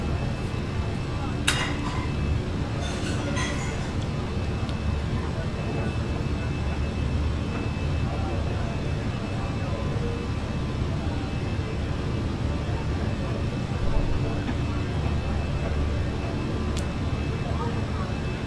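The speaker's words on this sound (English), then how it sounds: "Man, this aircraft is struggling, really struggling to gain altitude." Airbus A319 engines droning steadily under load during a struggling climb, a constant broadband roar heard from the cockpit, with brief clicks and faint speech in the background.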